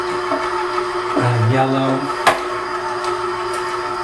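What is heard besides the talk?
KitchenAid stand mixer running at low speed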